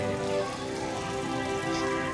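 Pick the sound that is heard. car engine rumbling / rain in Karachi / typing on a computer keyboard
rain in Karachi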